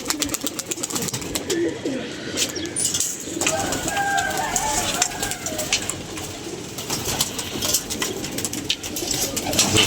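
Pigeons kept for flying competitions coo in soft, repeated throaty calls close by, with occasional wing flaps and scattered outdoor background noise.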